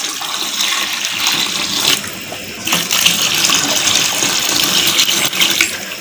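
Water pours steadily into a cooking pot of Dindigul-style seeraga samba mushroom biryani that already holds coconut milk, giving a continuous close gushing splash for the whole stretch with no voices.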